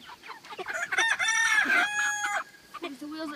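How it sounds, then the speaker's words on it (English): Chickens in a chicken tractor on a processing day squawk and cluck loudly nearby, with a drawn-out crow-like call in the middle and scattered clucks afterward. "We're catching the chickens."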